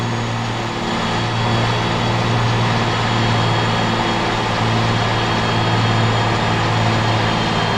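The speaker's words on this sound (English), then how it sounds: "see if the engine's going to hold out, the gears are going to hold out" A truck engine in the Harsh Russia driving game, set in Transbaikalia, runs steadily under load with a low droning hum throughout, loud and continuous, with no talk.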